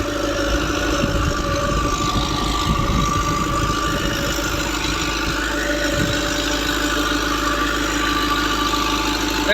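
A tractor engine idles close by without pause, a low, steady rumble and constant heavy drone with a faint mechanical whine on top.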